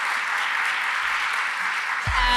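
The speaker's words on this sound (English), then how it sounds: "Give us a round of applause" A crowd applauds steadily throughout, dense clapping at an even level, with a low thump near the end.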